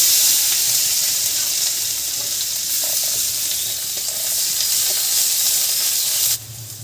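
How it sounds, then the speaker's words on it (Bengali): Onion fries in oil with a continuous close hiss, with faint occasional pops and scrapes, before the sizzle drops away near the end. "আমি একটা পেঁয়াজ ভেজে নেব।"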